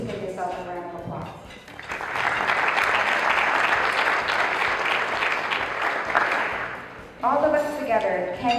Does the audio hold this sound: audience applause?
yes